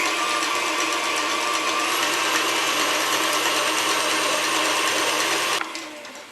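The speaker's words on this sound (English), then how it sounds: "If you do not have an electric mixer, you can totally do this by hand. I'm just choosing to use mine." An electric mixer with a whisk attachment whirs steadily through banana bread batter with a busy mechanical, geared drone, then cuts off near the end. No one speaks.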